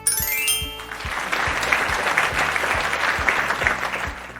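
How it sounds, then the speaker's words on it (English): Round of applause from a group of children during a classroom lesson, steady clapping that fills several seconds at a fairly even level after a brief musical sting. "Give yourselves a round of applause."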